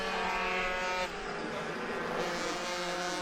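Senior minimoto racing bikes battle closely at Llandow circuit, their high-pitched engines buzzing loudly and continuously as they pass near, with layered whines from several bikes at once.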